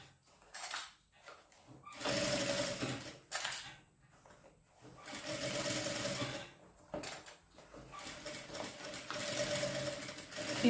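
Sewing machine stitching fabric, running in several separate bursts of steady mechanical whirring with short quiet pauses between them, close and fairly loud with no talking.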